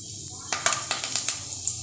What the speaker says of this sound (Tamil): இப்போ பாருங்கள் சீரகம் வந்து நல்லா பொரியட்டும்